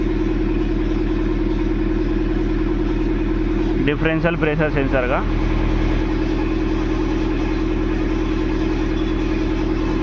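A Mahindra Scorpio S9 engine with a starting fault idles steadily throughout, a constant low hum with a short burst of clicking and rattling near the middle while someone speaks briefly over it.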